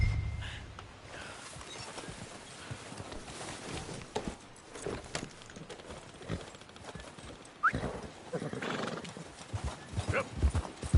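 A horse in a PS4 video game neighs and clops its hooves in bursts. The clatter grows busier toward the end, set against a faint, noisy game soundscape.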